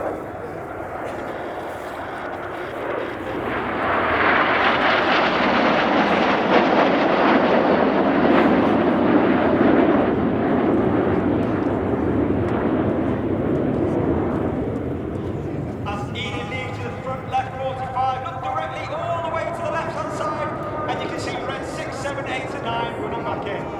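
Royal Air Force Red Arrows jets fly a display at RIAT, a broad roar that swells as they pass and then fades into distance, while a commentator talks over the sound.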